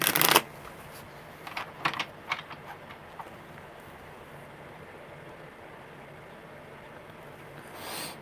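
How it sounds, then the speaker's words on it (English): Tarot cards are shuffled by hand in a quiet room: a loud riffle at the start, then a few soft clustered flicks and taps, followed by near silence. "Okay, one more good shuffle."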